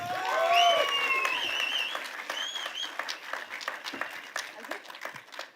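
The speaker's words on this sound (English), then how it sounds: "Round of applause, everybody, once again." Audience applause at a film trailer launch event opens with loud whoops and cheering shouts, then settles into a scattered crowd clapping that fades gradually, with some voices mixed in.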